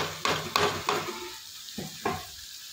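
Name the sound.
tomatoes added to frying brinjal curry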